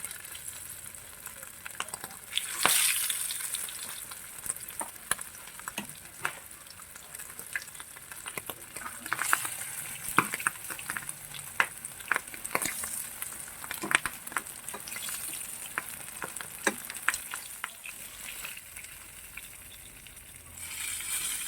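Milkfish (bangus) sizzles steadily in hot oil for sinigang sa miso, a continuous close frying crackle with sharp spattering pops throughout and no voices.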